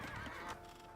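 A horse neighs in the real-time strategy game Age of Empires II, one clear whinny over game sounds, fairly loud and close.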